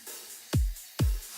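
Soloed group of every drum and percussion element from an Ableton project, including acoustic drums: two heavy, booming kick-like hits about half a second apart over a faint background wash.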